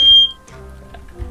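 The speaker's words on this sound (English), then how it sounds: "That's an alarm." A single high electronic beep of a smoke-detector-style alarm sounds loud and close at the start, then fades, leaving a quiet room hum with faint background noises.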